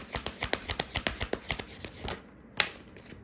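Tarot cards being shuffled close by, a rapid run of about a dozen crisp riffling flicks, then a pause and one final snap of the deck, with no talking.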